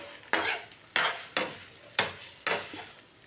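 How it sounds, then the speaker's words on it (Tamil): Cut omelette pieces being stirred with masala in a pan for a street-style chilli omelette, five distinct scraping strokes of a spatula against the pan with a faint sizzle between them, close and fairly loud. "இப்போ வந்து கட் பண்ண வச்ச ஆம்லேட்டு இதோட போட்டுக்கணும் போட்டு நல்லா கலந்து விட்டுக்கலாம்"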